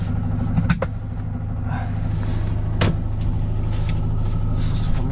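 Engine of an old postwar Piaggio Ape three-wheeler running steadily close by, a constant low motor hum with a couple of brief mechanical clicks and knocks early on, no talking.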